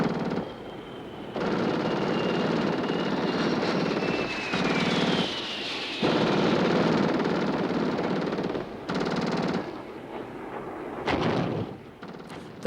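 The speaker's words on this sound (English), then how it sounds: "the Israeli jets arrived simultaneously over their targets" Israeli military jets sweep over their targets during the Six-Day War in a continuous loud roar, with a rising and falling whine of engines passing overhead and brief dips between bursts of noise, alone without talk.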